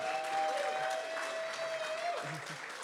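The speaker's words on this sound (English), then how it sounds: "Round of applause there" Live audience applause at a rugby-legends talk show event, a dense steady wash of clapping from a crowd, fairly loud throughout, with a voice faintly under it.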